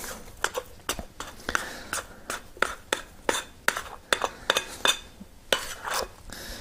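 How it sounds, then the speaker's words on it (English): A plastic dough scraper working very wet, risen sourdough out of a bowl, a close run of quick scraping strokes and soft knocks against the bowl in an uneven, steady rhythm. "This plastic dough scraper comes in real handy for removing the dough from the bowl."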